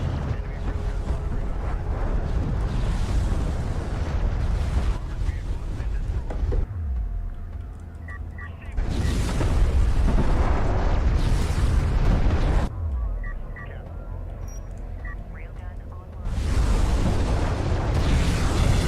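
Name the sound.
missile explosions in video game Homeworld: Deserts of Kharak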